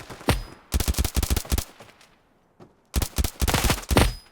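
Bursts of rapid gunfire in the video game Standoff 2 crack in two clusters, separated by a brief lull with a single faint shot, loud and close.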